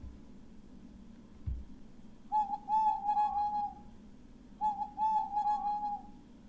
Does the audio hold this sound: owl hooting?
yes